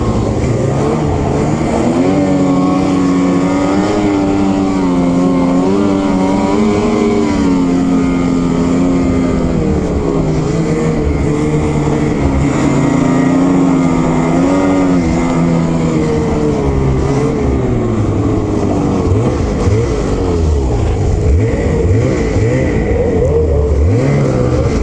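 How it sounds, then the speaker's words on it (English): A 2021 Ski-Doo XRS snowmobile with an 850 E-TEC engine gives a loud, throaty exhaust note that rises and falls as the throttle is worked, rumbling close by for a long stretch with no talk. "Cool sound on the etecs. They're very like throaty."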